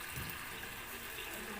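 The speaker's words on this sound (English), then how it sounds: "So I'm gonna add water because I want something gravy." Water poured into a pot of simmering chicken adobo with potatoes, a steady, close trickling and gushing that runs continuously without pause.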